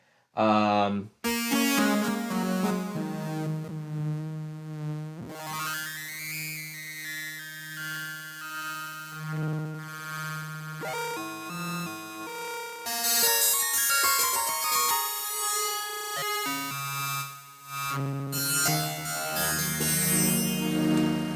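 A Korg opsix FM synthesizer plays a basic patch built from one carrier and one modulator: bright, bell-like sustained tones with sweeping, shifting overtones and changing notes, loud and alone with no voice.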